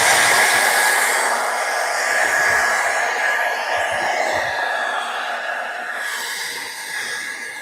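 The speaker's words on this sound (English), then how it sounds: "Now I'm going to take this blow dryer." A handheld blow dryer runs steadily and close up at a painting table, a loud continuous airy rush that wavers slightly in strength throughout, with no talking.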